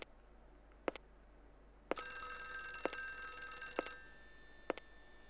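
A telephone rings in the Windows 95 version of the video game Clock Tower, sounding as a bright electronic trill in repeated bursts over a steady low background hum, with no talking.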